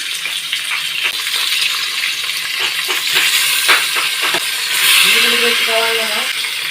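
Washed chicken frying in oil inside a pressure cooker, a continuous sizzle with scraping and stirring clatter, rising in intensity near the end.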